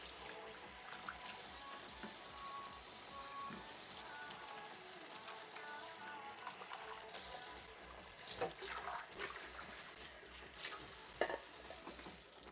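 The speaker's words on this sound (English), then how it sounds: "I'm going to wash my hands" Kitchen tap water runs in a steady splashing stream while hands are washed under it, close by, with soft irregular splatters and handling noises and no voice heard.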